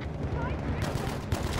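Gunfire striking a tank in the video game Battlefield V, a loud rumbling burst with heavy low-end impacts, a sharp crack partway through and a faint voice mixed in.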